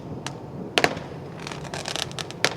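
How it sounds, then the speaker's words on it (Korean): Fireworks going off outside during a camping-car trip in Pohang, heard from inside the vehicle as scattered crackling bursts, a few sharp pops among fainter fizzing crackle. "밖에 불꽃놀이 하고 있어요"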